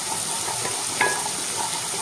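Garlic and ginger paste toasting in a pan gives a steady, even hiss with a single brief clink of a utensil partway through, close and alone.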